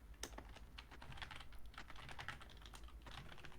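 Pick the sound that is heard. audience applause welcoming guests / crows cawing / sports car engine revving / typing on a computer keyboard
typing on a computer keyboard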